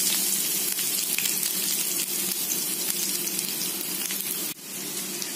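Garlic and onion sizzle in coconut oil in a hot pan, a loud, steady hiss that holds for several seconds and dips briefly near the end.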